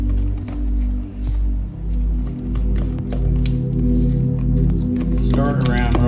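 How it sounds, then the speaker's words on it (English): Gluten-free light roll batter is worked with a spatula in a bowl, giving soft wet squishing and scraping over a steady low hum, with a voice near the end. "Stir it around real good. You don't want no dry lumps of flour in your light rolls."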